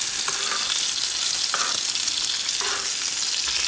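Tomahawk steak searing in oil and butter, a loud, unbroken high sizzle filling the clip, with a few faint utensil touches and no voices.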